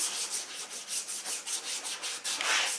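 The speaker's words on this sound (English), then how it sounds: "So we have to sand this all down to smooth." A urethane rubber car bumper is hand-sanded smooth, giving rhythmic back-and-forth rasping strokes about four per second, close and steady, with no voices.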